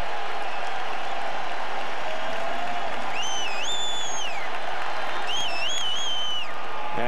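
Chicago White Sox home crowd at a 2008 baseball game against the Minnesota Twins, cheering and applauding as they wait for a strikeout, a loud continuous roar with whistles rising above it twice.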